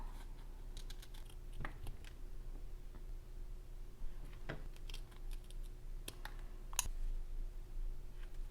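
Scissors snip out a paper light-bulb shape for a diary scrapbook. A few quiet, separate crisp cuts and rustles sit over faint background hum, close up and soft.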